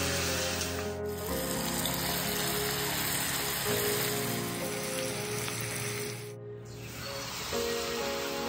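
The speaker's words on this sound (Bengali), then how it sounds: "তেলটা একেবারে ভাজার মতো উপযুক্ত হয়ে গেছে, চলো এবারে বেবি কর্নগুলোকে ভেজে ফেলার পালা।" Baby corn frying in hot oil in a wok gives a dense, steady sizzle and crackle, close and loud, with a brief dip partway through and no talking.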